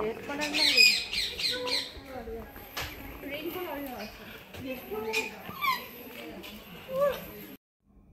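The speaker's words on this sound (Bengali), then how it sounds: "এই যে একটা সাদা কাকাতুয়া দেখতেছেন" Harsh squawks from a white cockatoo ring out repeatedly at the start and now and then throughout at a safari park in Gazipur, while a person talks steadily over them before a brief silence.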